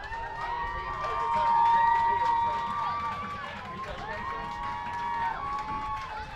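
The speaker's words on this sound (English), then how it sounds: "So the New Jersey fans applauding as the ball gets moved back." Fans at a youth football game in New Jersey clap and cheer in a broad crowd wash that rises, peaks, and eases off, with shouting voices and talk mixed through it.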